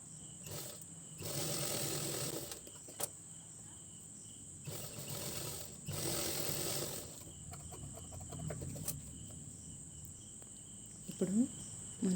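A sewing machine stitches around a blouse piece in two short, quiet runs of rapid mechanical whirring, separated by stretches of near silence with faint background hum.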